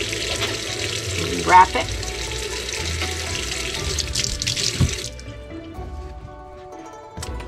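Tap water runs steadily into a sink in an RV kitchen while sushi is being rolled, then stops near the end, with someone speaking briefly over it.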